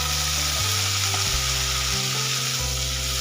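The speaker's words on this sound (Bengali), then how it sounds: "দেখতে পাচ্ছেন আলু বরবটি ভাজা ভাজা হয়ে গেছে।" Potatoes and yardlong beans fry in a pan over a low gas flame, giving a steady close sizzle with a low hum that shifts a few times.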